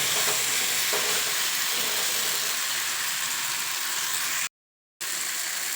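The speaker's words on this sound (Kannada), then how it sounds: "ಮೀಡಿಯಂ ಫ್ಲೇಮಲ್ಲೇ ಫ್ರೈ ಮಾಡ್ಕೊಳ್ಳಿ ಇಲ್ಲಾಂದರೆ ತಳ ಸಿಗೋಗ್ಬಿಡುತ್ತೆ" Masala for chana masala frying in a pan on a medium flame, a loud, dense, continuous sizzle and hiss with stirring scrapes. The sound cuts to a brief silence, then the frying resumes.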